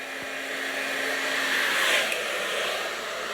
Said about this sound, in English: I'm going to go in with my blow dryer, hold it.